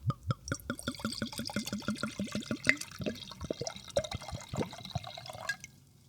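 Wine glugs out of a bottle into glasses in a quick run of gurgling bursts that gradually slow and turn more uneven before trailing off, close and fairly quiet.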